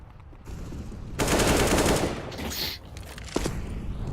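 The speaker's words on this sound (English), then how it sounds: "Dapper gets a frag, Polo gets refragged." Rapid automatic gunfire from a Counter-Strike: Global Offensive match at a Dreamhack Open Winter 2017 qualifier, loud dense bursts of shots rattling back and forth with a few sharp single cracks near the end.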